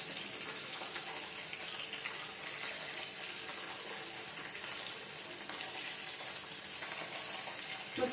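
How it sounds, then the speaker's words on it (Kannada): Curry leaves frying in oil over medium heat in a pan with capsicum for a potato-capsicum gravy, giving a steady, even hiss of sizzling throughout with no pauses. "ಈಗ ಆಯಿಲಲ್ಲಿ ಫ್ರೈ ಮಾಡ್ತಾ ಇದ್ದೀನಿ"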